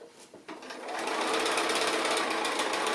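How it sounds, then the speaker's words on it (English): A sewing machine runs a straight stitch on a conical Christmas tree project, starting after a brief pause and then whirring loudly and steadily at close range, its motor and needle forming a dense continuous buzz. "So this is just going a straight stitch all the way up to the top,"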